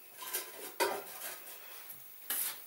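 Faint clinks and scrapes of a metal cooking pot, about 18 cm tall, being handled in a kitchen while preparing lingonberry liqueur, with a few sharper knocks separated by quiet stretches.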